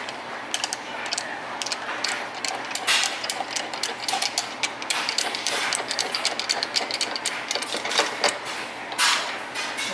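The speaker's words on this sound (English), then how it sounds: "So the little tool I bought was a Flywheel Puller from Motion Pro." A 17 mm socket turns a Motion Pro flywheel puller threaded into the flywheel of a Yamaha Blaster engine during bottom-end disassembly. Close, continuous ratcheting clicks and metallic mechanism chatter run throughout, with no talking.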